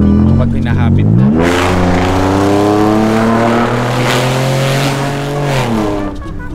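A Honda Civic engine, set up and noted as loud under throttle, revs up hard and holds a loud steady drone before easing off near the end, with people talking over it.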